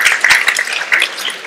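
Audience applause breaks out during a live discussion in Vienna with the Burgtheater director, a brief burst of dense clapping from a crowd, fairly loud and close, with no talking over it.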